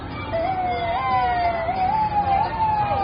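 Fire truck sirens wail during a small-town Christmas parade in Florida, a loud, steady rising and falling tone over a rumble of traffic and crowd noise.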